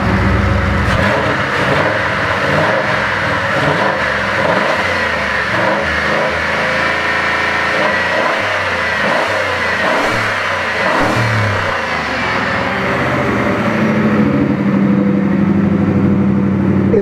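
A Ford Maverick project car's engine revs up close and loud, a sustained rough roar that rises and holds for several seconds before settling toward a lower idle.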